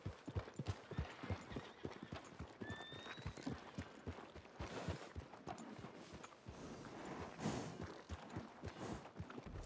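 Horse hooves from the video game Red Dead Redemption 2 clip-clop in a steady walking rhythm throughout, fairly faint and close, with occasional tack jingles and a brief whinny-like tone.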